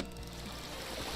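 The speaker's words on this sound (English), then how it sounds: "It's the sound of bubbling water." Water bubbling and rushing in a steady, continuous wash, fairly close, with no voices.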